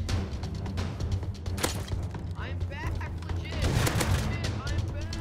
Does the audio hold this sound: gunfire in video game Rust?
yes